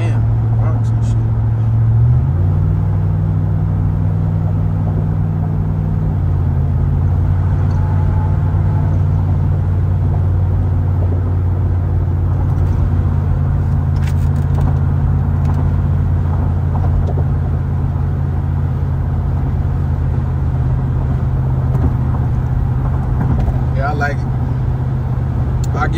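A Cadillac Escalade cruises at speed on the road, a steady loud low drone with a small shift in pitch early on. Faint rattles come through near the end.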